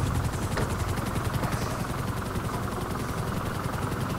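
A helicopter in GTA V on PC flies with a steady, loud rotor and engine drone that stays constant throughout, with faint rapid gunfire-like crackle mixed in.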